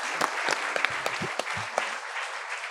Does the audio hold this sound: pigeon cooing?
no